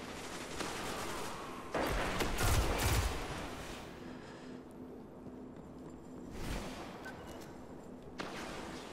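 Pulse rifle fire in Destiny's Crucible PvP on the Drifter map, with dense bursts of gunfire and layered battle noise throughout, loudest near the start and again in the middle.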